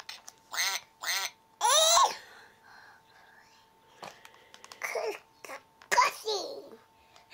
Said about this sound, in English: The ducky quacky is a horrible sound.